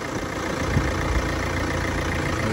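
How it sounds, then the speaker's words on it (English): The 2.2-litre-class turbo diesel of a 2016 Kia Sorento all-wheel drive idles with the hood open, giving a steady, close, rumbling clatter that holds evenly throughout with no voices. "And you can hear the car running."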